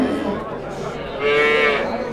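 A cow at a livestock market gives a single long, loud low moo, close by and without any speech.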